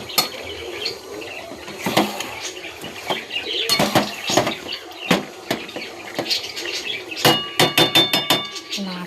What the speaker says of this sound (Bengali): টমেটোটা দেওয়ার পর একটু নাড়াচাড়া করবো।